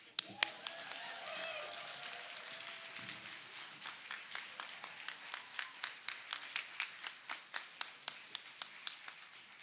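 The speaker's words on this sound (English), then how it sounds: "please join me in one more round of applause in congratulating this year's class." Applause at a 2024 diplomacy graduate hooding ceremony: a crowd's mixed clapping under a voice at first, thinning into sparse, evenly spaced single claps that fade toward the end.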